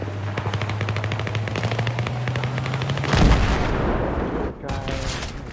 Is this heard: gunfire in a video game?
yes